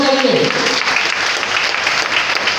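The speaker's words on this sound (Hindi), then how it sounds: "एक जोरदार" Loud audience applause at a motivational business meeting, a dense continuous clapping that fills the whole moment, with a voice briefly audible at the start.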